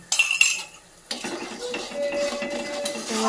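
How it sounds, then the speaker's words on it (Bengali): A metal spatula clinks and scrapes against a pan as a ground spice paste of cumin paste, turmeric powder and salt is stirred and fried. Sharp clattering strikes come first, then a softer, steady scrape with light sizzle, with no voices. "ভালো করে কষিয়ে নেবো মশলাটা।"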